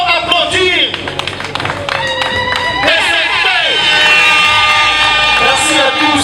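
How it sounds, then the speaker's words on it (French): Audience applause and cheering at an outdoor political declaration on a Paris esplanade, steady dense clapping mixed with crowd hubbub and scattered calls, loud and sustained throughout. "Si nous pouvons applaudir"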